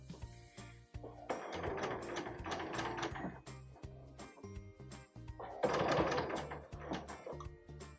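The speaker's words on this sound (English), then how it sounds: "you just go ahead and stitch down the rest of the length of the unit" Sewing machine stitching down the length of a cosplay haori seam through the presser foot, a close mechanical whirring run with brief stops and restarts, no talking.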